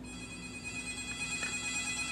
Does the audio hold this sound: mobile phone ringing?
yes